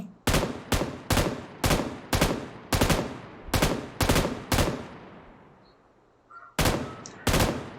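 Bursts of M249 machine gun fire in PUBG New State, sharp repeated volleys in a rhythmic sequence with a short pause before two more bursts, loud and close with decaying echoes.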